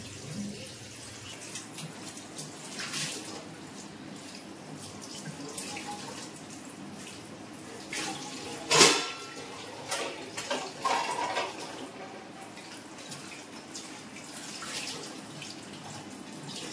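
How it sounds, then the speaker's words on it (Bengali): Dinner plates being scrubbed and rinsed under a running kitchen tap, a steady wash of water with scattered clinks and a brief louder splash midway, fairly close and with no talking. "আমি ভাত খাওয়ার থালাগুলো সব মেজে নিচ্ছিলাম"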